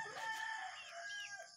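A pet rooster crows once, close and clear, at feeding time.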